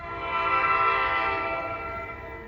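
An NJ Transit train pulls into Netcong station, sounding a sustained, steady horn chord that swells and then slowly fades over a low rumble, fairly loud and near, with no speech.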